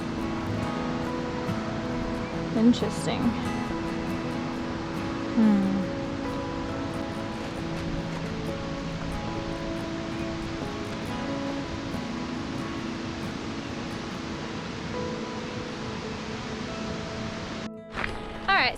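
A river flowing across a former walking track on New Zealand's South Island west coast, producing a steady broadband rushing wash throughout, with a brief spoken word over it.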